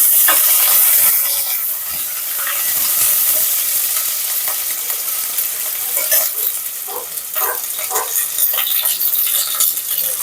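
Potatoes, fish and onion fry in oil in a pan, giving a loud, continuous sizzle and hiss with scattered scraping and stirring clicks throughout, and no voices.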